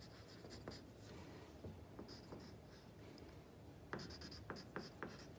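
Pen writing a name on paper at the top of a bead-pattern planning sheet, faint soft scratchy strokes in short bursts with pauses, quiet and close, no talking.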